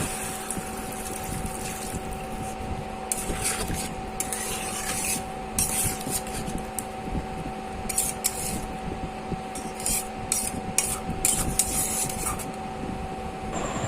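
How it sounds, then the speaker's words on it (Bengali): Water goes into a pot of Bengali kundri and potato curry cooked with mustard, a close, rushing pour with splashing and scraping bursts over a steady hum. "দিয়ে দেবো পরিমাণ মতন জল"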